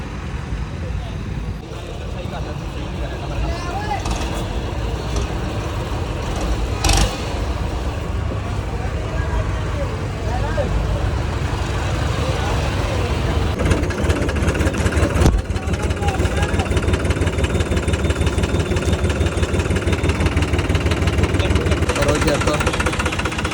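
A Mustang tractor engine rumbles continuously at idle in a traffic jam at Anandpur Sahib, nearby and fairly loud, with people talking over it throughout.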